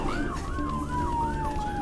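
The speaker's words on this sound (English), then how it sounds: "Croxy and Sean are battling the traffic to sounds of sirens and some Christmas music." An emergency rescue vehicle's siren wails in traffic while responding to a reported major explosion in a suburb, a loud, steady rising-and-falling electronic whoop repeating several times, close and continuous over low road rumble.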